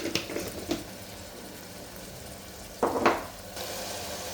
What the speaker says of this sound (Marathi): आपला कांदा आणि टोमॅटो व्यवस्थित परतून झाला आहे।